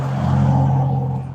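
A 1966 A-code Ford Mustang idles with a lopey cam, giving a loud, close, steady low rumble that holds for a moment without any talk.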